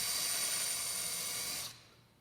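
Power drill boring into a wooden miter joint, a close, steady high whine for under two seconds before cutting off abruptly into quiet room tone.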